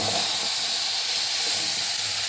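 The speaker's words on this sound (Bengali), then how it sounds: "এখন আমি মশলাটা দিয়ে দেবো।" Spice paste hitting hot oil with tempering spices in a pan, giving a steady, close hiss and sizzle that holds evenly throughout.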